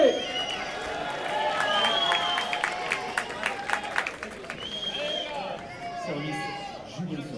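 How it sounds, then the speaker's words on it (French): An audience at a padel match claps and cheers with a building patter of hands, then it thins out into scattered claps under crowd chatter and a loud voice calling out. "Est-ce qu'on peut faire un tonnerre d'applaudissements pour Alex et Léo qui reviennent dans cette partie"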